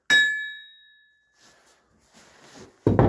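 An old Zlatoust axe head is struck once and rings with a bright, clear metallic tone that decays over about a second, followed by quiet handling noises and a louder clunk at the end.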